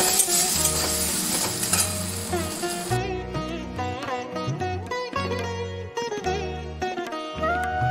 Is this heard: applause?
no